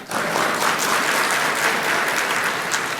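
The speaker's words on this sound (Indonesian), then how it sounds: "Jangan tepuk tangan dulu" Audience applause at a talk on the economy, a steady, dense wash of many hands clapping, even and sustained for the whole stretch at moderate volume.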